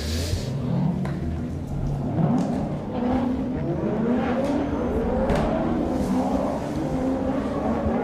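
Drift cars rev their engines behind the judges' tower at a drift competition round in Val d'Argenton as drivers warm up tires. The engine drone is steady and somewhat distant, with rising and falling revs throughout.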